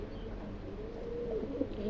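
Pigeons at a breeding farm give soft, low cooing calls against a steady background hum, fairly close and gentle, with no talk.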